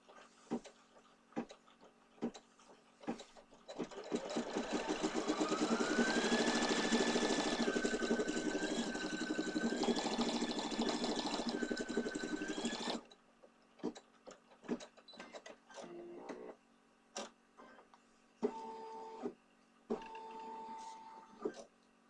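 An embroidery machine sewing a placement stitch in flesh-colored thread, a dense rapid mechanical whir with a shifting motor tone for several seconds, framed by scattered clicks and beeps before and after.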